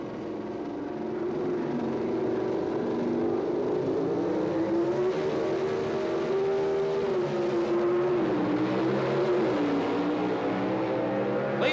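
Two drag racing cars, an AMC Hornet and a Ford Fairmont, launch side by side at the 1978 NHRA Summernationals, a loud sustained engine roar with rising and shifting pitch, close and continuous, with no talk.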